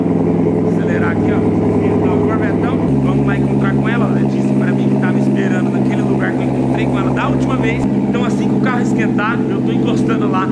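A car's engine drones loud and close with a steady hum, then shifts to a lower pitch partway through as it pulls ahead. Someone talks over the engine throughout.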